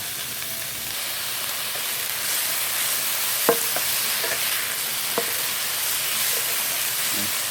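Pork belly stir-fried in a pan as its fat renders, giving a steady, loud sizzling hiss throughout with a few faint scrapes and clinks of stirring, and no talk.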